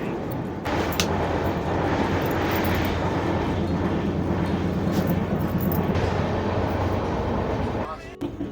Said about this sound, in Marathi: लोकल ट्रेन आहे